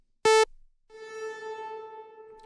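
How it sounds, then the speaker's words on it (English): A one-second delay effect from the IceWorks Kajita reverb plugin, with a short loud tone followed about a second later by a sustained, softer repeat that rings on steadily. "So you can hear the delay of 1 second."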